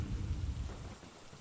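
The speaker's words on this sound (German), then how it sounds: "Das ist das Gewitter" Thunderstorm in Phasmophobia, a low rumbling wash of rain and distant thunder, faint and steady throughout with no speech.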